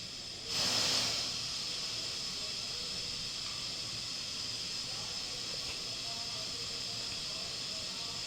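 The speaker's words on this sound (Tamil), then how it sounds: "கடுகு பாருங்கள் ஒரு அரை ஸ்பூன் கடுகு போடுறேன்" Half a spoon of mustard seeds goes into hot oil with a little urad dal and garlic; the sizzle swells sharply after a moment, then settles into a steady, close hiss with faint scattered crackles.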